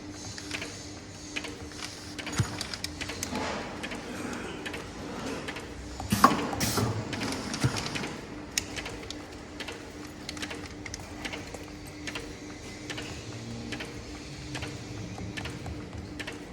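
An irregular shape sachet packing machine runs with steady mechanical clicking and ticking, a busy rhythmic clatter with a few louder clunks near the middle, heard close with no talk.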